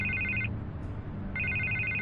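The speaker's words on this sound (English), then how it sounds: "I can't get the phone to stop ringing." A telephone rings in the Batman Telltale video game, two bursts of a bright electronic trill separated by a short pause, loud and close over a low background hum with no voices.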